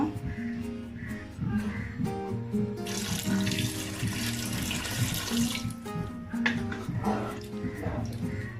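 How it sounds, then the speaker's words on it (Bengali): Water poured into a cooking pot of chicken with chana dal, a steady rushing pour lasting a few seconds close by, framed by clatter and a dog barking in the background. "এখন দিয়ে দিচ্ছি পানি।"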